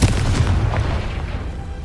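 A Confringo fire spell bursts in Hogwarts Legacy, a loud low booming rumble that fills the whole moment without any talking.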